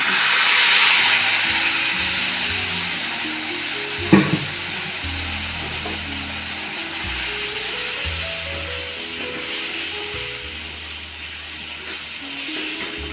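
Ground fried-coconut paste hits a hot pan for Kerala-style egg curry, setting off a loud, steady sizzle and hiss with one sharp clank of a utensil partway through, no voices.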